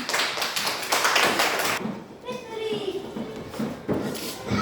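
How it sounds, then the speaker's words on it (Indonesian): A fourth-grade class bursts into dense, rapid clapping that fades after a couple of seconds, then children's chatter and a teacher's voice take over before a few more taps. "Tepuk tangan."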